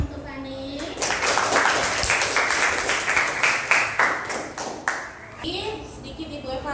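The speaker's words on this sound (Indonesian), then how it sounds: "Tepuk tangan untuk Fani." Classroom of students clapping for a classmate after a group presentation, a dense burst of hand claps lasting several seconds with a voice speaking at the start and end.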